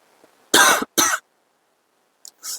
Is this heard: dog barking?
no